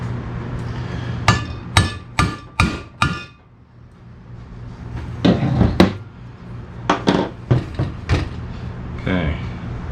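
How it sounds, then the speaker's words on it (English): A hammer strikes a center punch into a metal part, in two bursts of sharp, ringing metallic blows, five quick hits then several more, close and loud. "Going to try to center punch this thing."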